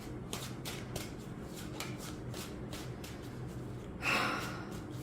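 Jane Austen tarot cards riffled and shuffled close by, a steady run of soft papery flicks with a louder burst of shuffling near the end.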